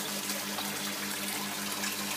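Water from an aquaponics barrel with a sponge filter overflows into a 1,000-litre tank, a steady, moderately loud trickle and splash that runs unbroken, with no voices.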